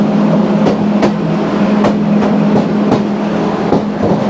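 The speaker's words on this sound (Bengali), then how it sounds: "আর এটা হচ্ছে মালবাহী ট্রেন" A freight train rumbles past steadily with a low drone and regular rhythmic clacks of wheels over rail joints, loud and close.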